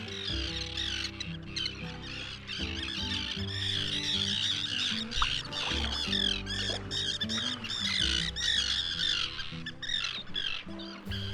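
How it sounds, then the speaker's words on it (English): Many birds squawk on an island in Lake Winnipeg, a dense, continuous chorus of harsh calls and chirps at close range, loud and unbroken throughout. "The birds don't want to share their island with me."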